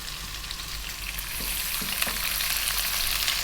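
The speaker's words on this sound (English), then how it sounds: "Then we're going to go in with our 1 cup of onion." Chopped onion sizzling in hot oil infused with cumin seeds for a vegan chickpea curry, a steady close crackling hiss that grows slightly louder, with a few soft stirring knocks and no talk.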